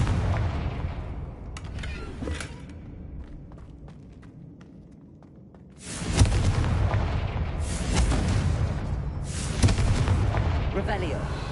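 A Confringo fire spell cast in the Hogwarts Legacy video game, with booming blasts that burst out loudly in two or three bursts after a quieter stretch, while a player says spell names between them.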